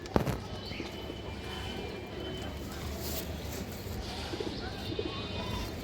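Soft cooing of a female pigeon among a group of pet pigeons, low murmuring calls running under a steady busy background with someone talking over it.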